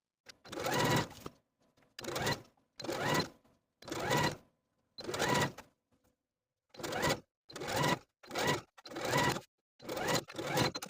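A sewing machine top-stitches a tank top neckband with a wide zigzag stitch, 2.5 mm wide and 2.5 mm long, in about ten close, loud bursts of rapid needle clatter separated by short silent pauses.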